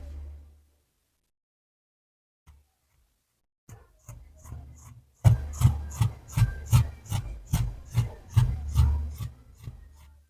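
Scissors cut through fabric for circle palazzo pants, a close series of crisp rhythmic snips and rasping strokes after a few quiet seconds with small handling sounds.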